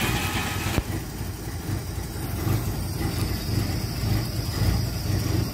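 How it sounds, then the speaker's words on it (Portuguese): Engine of an old Willys Rural running at a steady idle, a low continuous rumble close by with a brief click near the start and no voices. "Esse barulho, esse motor, o Willys é."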